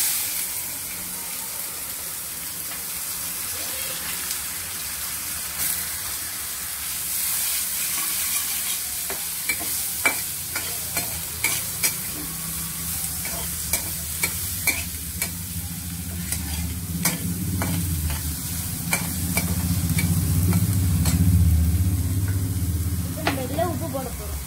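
Onions sizzle and fry in a pan of hot oil with asafoetida for brinjal sambar, a steady close frying hiss broken by repeated scraping stirs that grows fuller and louder toward the end, with a voice talking at times over it.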